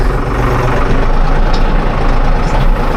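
A compact single-cab tractor engine running steadily nearby on a village farm in Ardahan, Göle, a loud low rumbling drone throughout with no talk.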